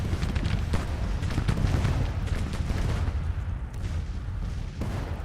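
Artillery fire rolls in from a Civil War battle in Grand Tactician: dense, overlapping booms and crackling volleys at a distance, continuous and loud, with no voices.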